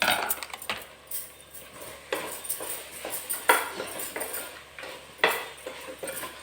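Masala powder frying in a pan for vangibath, a Kannada spiced brinjal rice dish, with repeated metallic scrapes and clinks of a spoon against the pan in irregular bursts, close and moderately loud.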